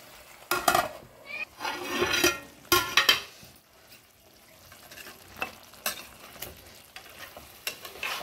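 A Marathi-style vegetable phodni sizzles in a pan while a spatula stirs and scrapes, with loud bursts of frying and clattering early on, then quieter intermittent scrapes over a low hiss.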